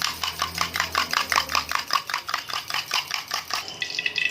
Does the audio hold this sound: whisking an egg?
yes